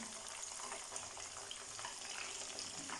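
Two chicken leg pieces fry in hot oil for broast-style fried chicken, giving a steady, faint, even sizzle with no pauses.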